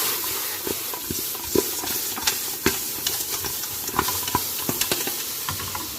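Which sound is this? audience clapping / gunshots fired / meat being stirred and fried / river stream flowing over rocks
meat being stirred and fried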